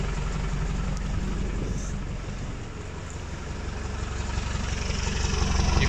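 A Land Rover Defender's 200tdi diesel engine, running on vegetable oil, idles with a steady, loud low rumble heard up close that continues unbroken throughout.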